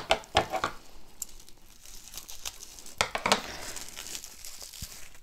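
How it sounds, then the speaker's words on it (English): Tissue paper crinkles and rustles in irregular bursts as individually wrapped items are unwrapped by hand, close and fairly quiet, with no voices. "She always wraps everything individually. Tissue paper."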